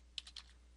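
Three quick keystrokes tap on a computer keyboard, close and crisp, in a quiet room, followed by near silence.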